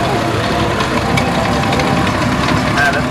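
A vintage tractor engine idles at a rally, a steady low rumbling throb with a slight knocking character, running continuously and fairly close.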